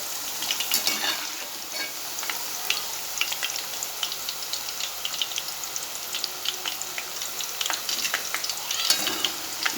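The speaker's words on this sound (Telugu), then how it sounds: "ఇంకొక వాయి కూడా ఇలాగ వేసి ఫ్రై చేసి తీసుకుందాం" Tamarind and other ingredients for an aavakaya mango pickle chutney fry in a pan, giving a busy, continuous sizzle. Crisp pops and crackles break through it, with occasional stirring scrapes, and no voices are heard.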